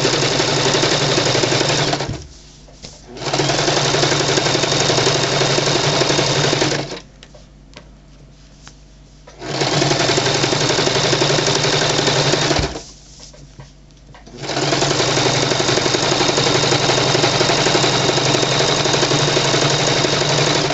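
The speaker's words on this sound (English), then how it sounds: "we're just doing a straight stitch" A sewing machine runs a straight stitch along a pillowcase in three loud, steady bursts of rapid mechanical whirring and ticking, each stopping abruptly with short pauses between.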